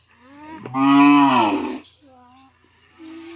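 A Jersey cow lets out one loud, long moo up close, followed by a couple of quieter, shorter lowing calls, during artificial insemination.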